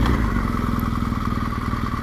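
A BMW R1200GS motorcycle rides along winter roads, its steady engine drone and road rumble continuous and close for about two seconds, with no talking.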